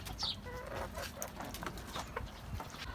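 Chickens on a rooftop garden give soft, faint clucks and scattered calls over a steady background hiss, with no one talking.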